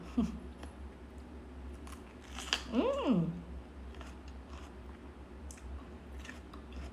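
A bell pepper stuffed with cheese and Cheetos is chewed up close, giving a few loud crunchy bites amid quieter mouth sounds.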